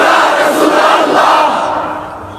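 A large crowd chants in loud unison in answer to religious slogans at an Islamic gathering honouring Eid-e-Milad-un-Nabi, a sustained roar of many voices that swells and then slowly fades.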